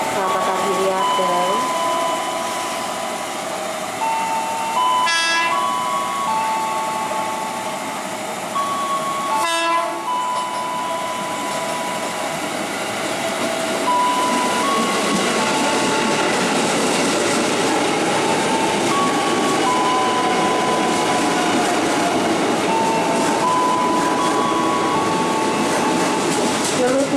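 A KRL commuter train at Tigaraksa station, with loud sustained rumble and rolling wheel noise, two short horn blasts near the start, and an announcer's voice speaking over the platform sounds.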